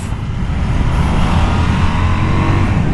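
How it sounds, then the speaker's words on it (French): A KTM 990 Duke twin-cylinder motorcycle engine revs and pulls steadily, its droning roar rising slightly in pitch, loud and close throughout with no voices. "Il est très agréable ce bicylindre."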